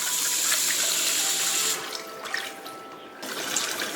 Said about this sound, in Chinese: 排骨先把它洗干净